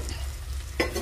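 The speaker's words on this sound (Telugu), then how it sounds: "ఇప్పుడు ఈ ఉల్లిపాయ ముక్కల్లో వేసుకుందాం." Ripe mango pieces dropping into onions frying in oil, a brief stir and scrape over a low steady sizzle, with a sharper clatter near the end, close and fairly quiet.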